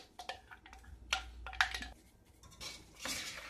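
Cilantro going into a pan of cooked spinach off the heat, with close metallic clinks and taps of a utensil against the pan plus some soft rustling and scraping, no talk.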